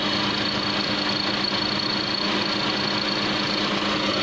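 A Proton Waja with the MMC engine idles steadily at close range, giving a continuous even hum with a faint mechanical whine and no talking.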